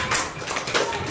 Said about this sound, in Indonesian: Berikan tepuk tangan untuk teman di depan.